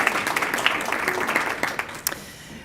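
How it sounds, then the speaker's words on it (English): Audience at a school board of education meeting applauding, a steady patter of moderate clapping from a modest crowd in a meeting room that fades out toward the end. "We can applaud for that, can't we?"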